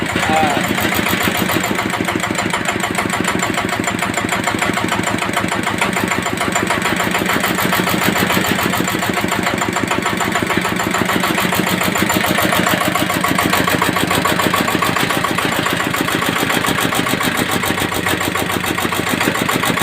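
A freshly started R190 single-cylinder diesel engine runs at idle, a loud, close, even, fast thumping beat that holds steady throughout.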